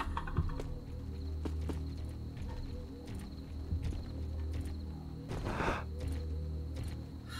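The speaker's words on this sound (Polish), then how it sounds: "Słyszę kroki, ale nie wiem dokładnie skąd dobiegają." Footsteps in the stealth game Thief: Deadly Shadows, a steady series of muffled clopping steps over a low hum and ambient game background, with no talking.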